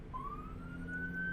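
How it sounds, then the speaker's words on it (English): A police siren sound effect wails on its own, a single rising tone sweeping steadily upward, moderately loud and close with no voices over it. "Police siren."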